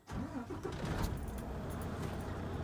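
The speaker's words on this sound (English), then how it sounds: "I'm going to start my truck up." A truck engine is cranked and fires up, settling at once into a loud, steady low rumble close by, with a faint jingle of keys at the start.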